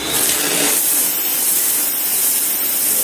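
A SwipeSmith 2500 PSI electric pressure washer fitted with a 0-degree nozzle blasts a straight jet onto concrete, giving a loud, steady hiss and spray that runs unbroken from start to finish.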